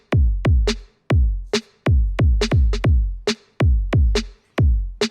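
A 909-style drum kit breakbeat in Ableton: punchy kick and snare hits in a syncopated, loping pattern, loud and dry with sharp attacks and no voices.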